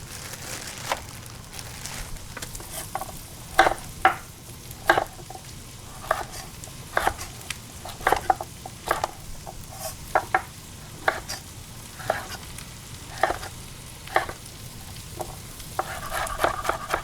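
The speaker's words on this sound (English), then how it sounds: "turn the heat up. Dump some of these mushrooms in here." Mushrooms and carrots stir-fry in a hot pan over high heat, with a soft sizzle beneath repeated scraping and tossing strokes. The clacks of the pan come at a loose, irregular rhythm, close and moderately loud, with no talk.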